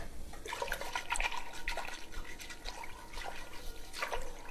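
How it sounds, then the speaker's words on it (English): Quiet whisk stirring flour into milk and broth in a pan, producing soft, continuous liquid swishing and light scraping in an uneven rhythm, close but faint, with no talk. "Let me get my quieter whisk."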